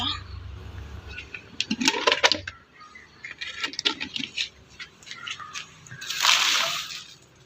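Municipal water splashes and sloshes while the area around a house is washed down, in uneven bursts with a stronger gush near the end, close by.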